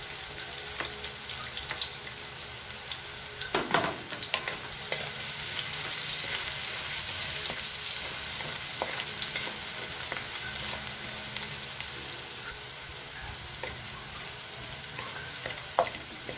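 Garlic sautés in a pan for tokwa't baboy with vegetables, giving a steady, close frying sizzle that holds for a long stretch, with a few faint stirring knocks.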